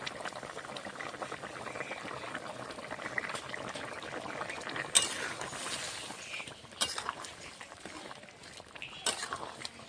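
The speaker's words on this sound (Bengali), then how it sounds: "আর কিছুক্ষণ তরকারিটা ফুটিয়ে নামিয়ে নেব" A pot of mixed vegetable and lentil curry bubbles steadily at a boil, a close, continuous simmering gurgle with a few brief louder bursts of bubbling near the middle and end.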